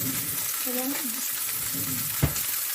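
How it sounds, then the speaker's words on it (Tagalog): Lamb chunks frying in a pan over high heat give a steady, close sizzle with a few soft stirring scrapes and one brief clank near the end, heard alone without talk. "So, I fry this in high heat."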